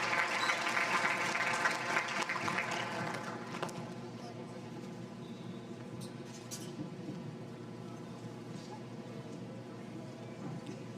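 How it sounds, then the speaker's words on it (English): Applause from a crowd at a girls' varsity game, steady clapping that is loudest at first and then thins into a softer, lingering patter with background voices. "Let's give one more round of applause to our class of 2026 leaders."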